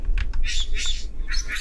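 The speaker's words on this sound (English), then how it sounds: "Hello, bird." Bird squawks in the video game Jazzpunk, several harsh bursts in quick succession, loud and close over a steady low hum.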